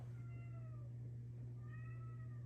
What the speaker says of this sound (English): You hear that cat being sad because I locked him out.